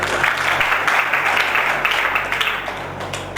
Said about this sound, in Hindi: और कोई इनके लिए जोरदार ताली बजाएं